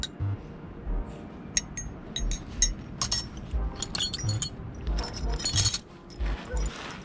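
Large metal keys jangle and clink in bursts, close up, with sharp bright chinks scattered over a few seconds while handling noises continue underneath.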